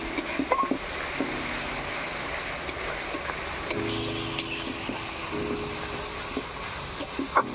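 Ground spices (cumin, coriander and chili powder) being fried in a pan for hilsa biryani, giving a steady, soft sizzle and hiss with occasional light stirring clicks.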